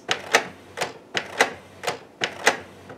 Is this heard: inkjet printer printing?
yes